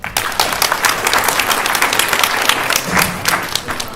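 Sustained applause from an audience at a tech talk, dense steady clapping throughout with no pauses, fairly loud and close.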